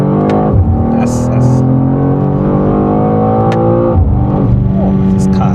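Close, loud engine of a 2024 BMW M2 as it drives and accelerates hard, revs climbing through gear changes with brief shifts between pulls, heard from inside the car.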